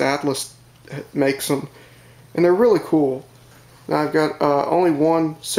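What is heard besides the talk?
None of the usual background noises is heard.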